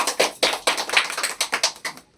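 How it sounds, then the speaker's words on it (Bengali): Applause from a small audience at a dish wash product demonstration, a series of sharp, separate hand claps that run unevenly for about two seconds and fade toward the end, with no talking. "এই প্রোডাক্টটার জন্য আরো একটু জোরে হাততালি দরকার"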